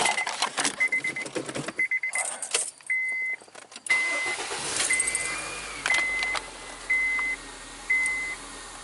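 A 2003 Honda Civic EX engine cranks and catches after an alternator replacement, then settles into a steady idle while a series of electronic beeps chime at regular intervals.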